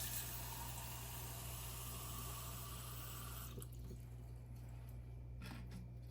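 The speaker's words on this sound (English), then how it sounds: "And now I'm going to measure out 3/4 cup water." Water runs steadily into a measuring cup for a homemade fruit and vegetable cleaner, a soft, close, continuous pour that stops partway, followed by a few faint splashes and clinks.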